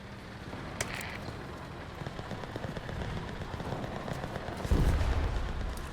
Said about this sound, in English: Artillerie! Feuer auf den Platz!